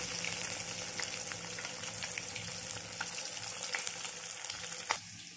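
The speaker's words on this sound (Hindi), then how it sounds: "मैं इस तरह से कढ़ाई में फ्राई कर रही हूँ। अच्छे से फ्राई करना है, रेड होने तक इसको अच्छे से फ्राई करना है" Fish sizzles steadily in a kadai over a high gas flame, a dense crackling fry with scattered pops and one sharper clatter near the end, no voices.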